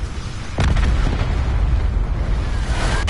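Hellstorm missile strike in a Call of Duty Nuketown match: a sudden loud explosive boom bursts in after a brief quieter stretch, then a sustained rumbling roar, with a second sharp blast near the end.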